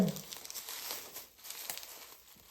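Plastic bags crinkle and rustle softly and close by as potted plants are packed into them. The handling sound is faint and steady, with no talking.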